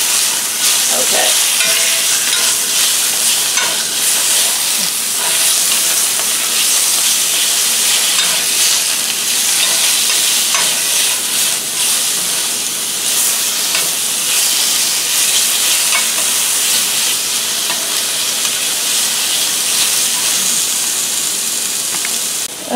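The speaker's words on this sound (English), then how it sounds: "stir fry the meat on high heat until it's no longer pink" Pork stir-frying in a wok over high heat, a loud continuous sizzle and hiss with scattered clanks of stirring throughout, close and uninterrupted.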